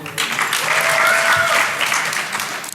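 Steady, loud clapping and cheers fill the hall as a DEF CON 21 conference audience responds, the applause sustained evenly across the whole moment.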